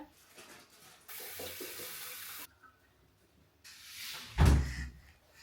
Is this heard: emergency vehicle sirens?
no